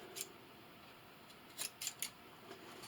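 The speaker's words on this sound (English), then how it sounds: "we're going to cut the tips off of our corners here" Scissors snipping the corners off sewn fabric for a rollup silverware holder: a few short, crisp close-up cuts, one near the start and a quick cluster in the middle, over a quiet background.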